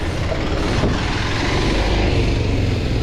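A new motorcycle cruises along a highway, its engine a steady, smooth drone blended with heavy wind rush, loud and close throughout with no voices.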